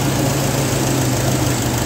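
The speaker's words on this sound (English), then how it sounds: "So now we're going to crank this thing up again and see how it runs." A 1949 Ferguson TE20 tractor engine runs at a steady idle, loud and close, with a continuous low rumbling drone and no pauses or speech.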